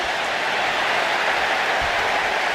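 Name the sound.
crowd cheering in WWE 2K25 video game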